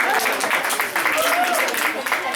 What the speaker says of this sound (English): a big round of applause for this tax exempt application